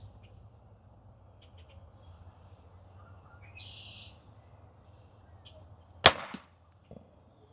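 A single sharp, loud crack from a Pinty NightFall GEN2 air rifle cuts through a quiet outdoor scene, followed by a brief ringing tail, with faint bird calls before it.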